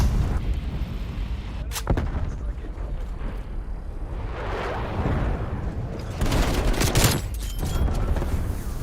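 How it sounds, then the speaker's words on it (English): Heavy airstrike explosions rumble through a video game battle, dense booming blasts and gunfire rolling continuously with louder bursts near the end, while a voice talks over the action. "Airstrikes like that, it ruins my groove."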